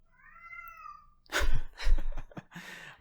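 A pet cat gives a clear, drawn-out meow alone, followed by louder close-up voices talking.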